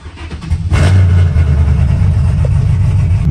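A 2020 Chevrolet Silverado pickup truck engine fires up and settles into a loud, rough idle, its deep rumble filling the space close by.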